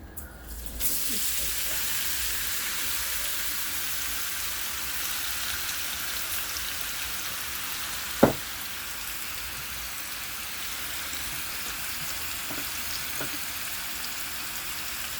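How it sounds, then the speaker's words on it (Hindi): Carrots frying in hot oil in a pan for Afghan Kabuli pulao, giving a steady, even sizzle like light rain that runs throughout, with a single sharp click partway through. "ऑयल गर्म हो जाए फिर हम उसमें डालेंगे गाजरें।"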